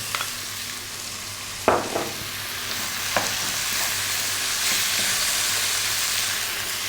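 Fresh chilies and tomato fry in a pan for Indian yellow dal, a steady broadband sizzle with a few sharp crackles and stirring clicks, close and even, no voices.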